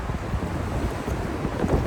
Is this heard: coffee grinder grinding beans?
no